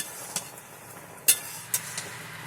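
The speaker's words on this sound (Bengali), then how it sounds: "এবার আস্তে আস্তে অল্প জালে এটাকে এভাবে আস্তে আস্তে নাড়তে থাকবো" Candied ash gourd being stirred slowly in sugar syrup in a pan over low heat: a faint, soft background with a few light spoon clicks and scrapes spaced irregularly.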